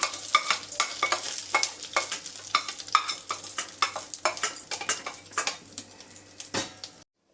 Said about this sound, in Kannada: ಗೋಡಂಬಿ ಒಂದು ಸ್ವಲ್ಪ ಕಂದು ಬಣ್ಣ ಬರಬೇಕು. ಚೆನ್ನಾಗಿ ಹುರಿದಿದೆ.